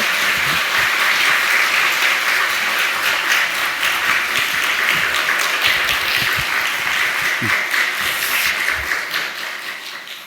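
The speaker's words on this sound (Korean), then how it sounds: "우리 한철흠 교수님 나오실 때 따뜻한 박수 해주시기 바랍니다" A church congregation applauds warmly to welcome a visiting professor to the pulpit during a Holy Week prayer meeting. Dense, steady clapping fills the whole stretch and fades slightly at the end.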